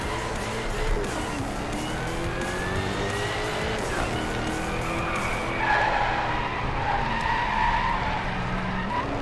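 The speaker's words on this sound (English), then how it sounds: "Both smoking their tires going around the corner there." A Jaguar in a racing video game squeals its tires hard through a corner, with a loud, sustained skidding whine and engine roar that rise and shift in pitch throughout.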